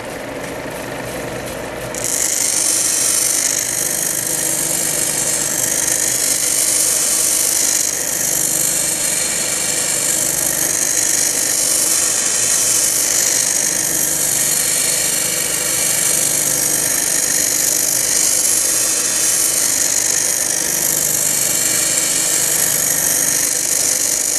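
A lapidary wheel grinds a stone cabochon being rocked back and forth against it. After a quieter start, the motor and abrasive contact produce a loud, steady whirring grind that holds close and constant throughout.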